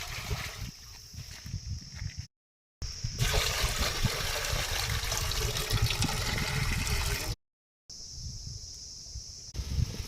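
One litre of water pours into a pan in a loud, continuous rushing stream lasting several seconds, briefly cut by two gaps of silence.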